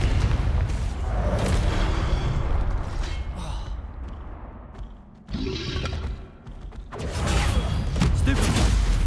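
A Confringo fire-blast spell cast in the Hogwarts Legacy game, with booming, rumbling impacts amid clattering combat effects and a sharp burst near the middle, all loud and dense throughout.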